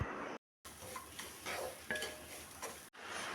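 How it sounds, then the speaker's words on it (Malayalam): Grated coconut being dry roasted in a pan with no oil, a soft dry rustling and scraping as it is stirred, in short bursts with brief gaps, faint and close, with occasional light metallic clinks of the spoon against the pan. "നമ്മൾ ഈ തേങ്ങ വറുത്തെടുക്കുമ്പോൾ എണ്ണ ഒഴിക്കേണ്ട ആവശ്യമില്ല കേട്ടോ"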